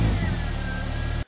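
A Ford ST150 with a straight-through exhaust centre section revs loudly and steadily up close, its mid-pitched engine note holding for just over a second before cutting off abruptly into silence.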